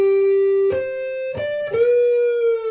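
Short electric guitar solo line from a rock song, three picked notes with sharp attacks, the last one sliding and left to ring, played alone.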